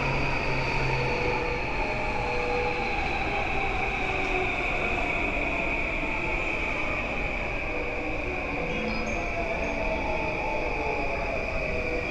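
A train in Tokyo arrives, rumbling steadily with a sustained high whine and hiss, loud and close throughout, no voices.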